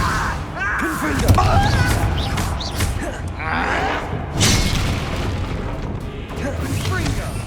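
Confringo blasting spell going off in the Hogwarts Legacy video game, a run of loud booming bursts and crackling impacts amid chaotic combat, with voices talking over the fighting.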